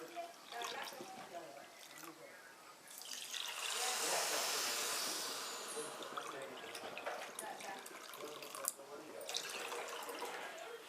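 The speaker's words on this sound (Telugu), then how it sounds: "రెండు కప్పుల పంచదారకి 2 కప్పులు నీళ్లు పోసుకోవాలి." Water is poured from a cup onto sugar in a pan for Karachi halwa syrup, a loud hissing splash that swells and fades over a few seconds, with someone talking before and after.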